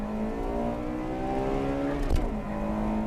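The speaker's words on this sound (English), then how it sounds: "A quarter-mile race between the 96 and 98 models." A 1996 Honda Integra Type R and a 1998 Integra Type R race over a quarter-mile, their engines holding a loud, steady high-rev drone with a brief shift dip partway through, heard from inside or close by. No speech.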